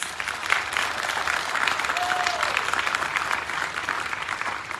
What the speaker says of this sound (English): I want to thank our volunteers, if you give them a round of applause.